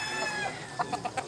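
A nine-month-old rooster clucks, giving four short, evenly spaced clucks near the end after a quieter start, close and fairly faint against a background hum.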